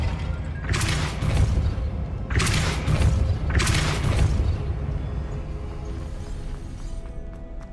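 A Depulso spell impact in Hogwarts Legacy lands as a few heavy, booming thuds in quick succession, deep and resonant, then a fading rumble with no voices.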